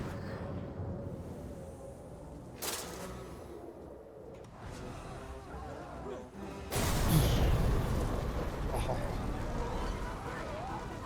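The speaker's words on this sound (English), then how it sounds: "The almighty explosion that filled up my elven rage." An explosion in the video game Shadow of War hits as a sudden, loud, broadband blast about two-thirds of the way through. A dense, sustained rumble follows it, after quieter game ambience and a brief whoosh earlier.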